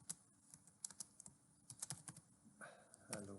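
Quiet, close typing of Python code on a computer keyboard, a run of irregular key clicks ending in a brief, slightly louder burst of noise.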